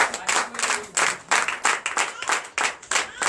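A church congregation claps and applauds together during a Friday night deliverance and prophecy service, producing rhythmic bursts of hand claps in a steady beat that carry on for several seconds.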